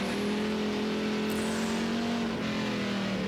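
Dirt track race car engine during a heat race, heard from the cockpit as a loud, constant droning roar with a steady tonal hum that dips slightly in pitch near the end, filling the whole clip.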